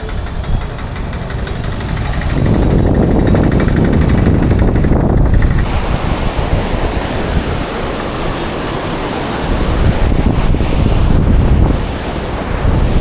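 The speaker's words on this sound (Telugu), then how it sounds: "ఇక్కడ మన బ్రిడ్జ్ కాడ నుంచి కూడా ఎంత ఫ్లో ఉందో వాటర్" After rain, fast river water at Vemulawada's Moola Vagu rushes under a bridge in a loud, continuous roar, with wind buffeting the microphone.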